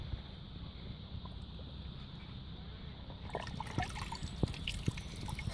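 Water trickling and splashing as an empty plastic milk bottle punched with holes is lowered into water, a steady low wash turning into sharper drips and spurts in the last couple of seconds, with no talking.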